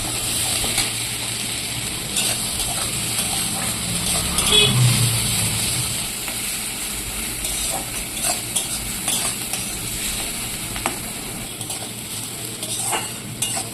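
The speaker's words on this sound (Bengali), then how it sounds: "পেঁয়াজটা ভালো করে লাল লাল করে ভেজে নেব।" Chopped onion fries in hot oil with whole spices, browning in a pan: a steady, close sizzle broken by frequent scraping stirs and light clinks of the spoon, with no talk.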